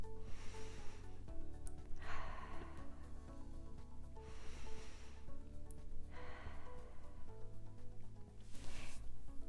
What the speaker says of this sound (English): when we practice deep breathing, we're wanting to take it all the way to our stomach. Sometimes it's called belly breathing.